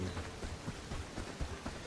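Steady rain in the medieval village-building video game Bellwright, a dense, even patter that fills the whole clip at low volume with no voices.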